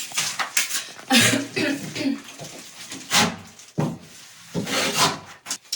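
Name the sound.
spatula applying tinted decorative plaster to a bathroom wall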